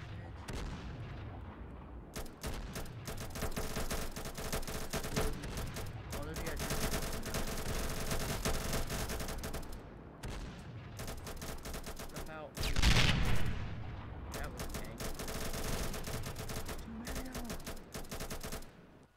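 A Roblox video game gunfight fills the clip with dense bursts of rapid automatic gunfire and scattered single shots. There is one heavier boom midway, and the gunfire is steady and fairly loud throughout.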